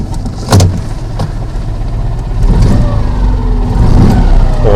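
A Citroën 2CV6 twin-cylinder engine turns over and catches on the Simplex key without throttle, settling into a close, steady, buzzing idle after a brief starter burst.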